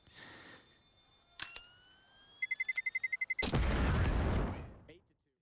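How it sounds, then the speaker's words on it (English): CS:GO match between BIG and Astralis at IEM Katowice 2022: a sharp pop and a rapid series of about ten bright clicks, then a loud, sustained whooshing burst of a thrown Molotov and flashbang igniting, fading out near the end. "Molotov out towards railing, pop flash right through."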